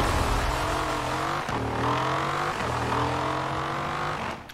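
A retuned car driven in the racing game Forza Horizon 4, its engine revving loudly and climbing through gears in repeated rising pulls with short shift drops, close and continuous before easing off at the end.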